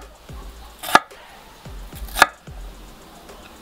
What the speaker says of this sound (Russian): Перец нарезаем кубиком.